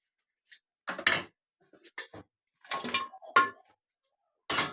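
Chicken pieces are dropped into a freshly washed pressure cooker, giving a few scattered clinks and clatters of metal and food in an otherwise quiet kitchen, with no talking.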